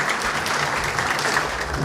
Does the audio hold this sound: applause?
yes